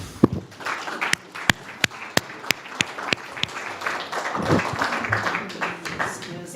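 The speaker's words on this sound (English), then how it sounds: "give us all each other a clap" A seminar audience claps, first with a few sharp, separate claps, then scattered applause mixed with murmuring voices and some movement.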